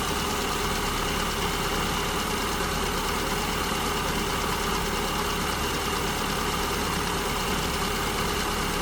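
A car engine with an SU carburetor idles steadily while its idle mixture is being leaned, giving a continuous close, even rumble with a light mechanical patter and no pauses.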